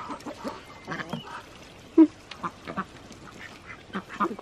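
Baby geese, white goslings, cluster around a watermelon and peck at it, giving close, busy peeping and quacking calls with rustling and one sharper honk partway through, with no speech.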